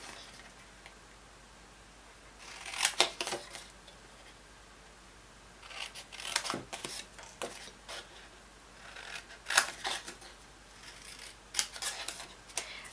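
Scissors snipping the corners off a paper treat box, several short bursts of crisp close cuts separated by quiet pauses, with no talk.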